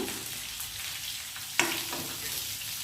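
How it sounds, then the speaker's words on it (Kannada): Onion frying in oil with mustard seeds and curry leaves, a steady close sizzle with one sharp crackling pop partway through, no voices. "ಈರುಳ್ಳಿ ಸ್ವಲ್ಪ ಬ್ರೌನ್ ಆಗಬೇಕು, ಅಲ್ಲಿವರೆಗೂ ನಾವು ನೀಟಾಗಿ ಫ್ರೈ ಮಾಡ್ಕೋಬೇಕಾಗುತ್ತೆ"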